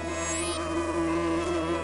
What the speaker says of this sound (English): Bees! My god.